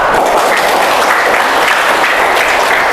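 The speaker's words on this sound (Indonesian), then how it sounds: "berikan aplaus untuk satu kata bijak" An audience fills a school gathering with dense, sustained clapping, loud and close, steady from start to end with no voices over it.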